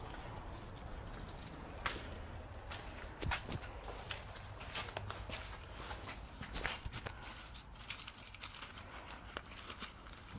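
Keys jangle faintly in scattered metallic clinks alongside footsteps and handling noise near a 2006 Chevrolet Impala under roadside repair, with no talking.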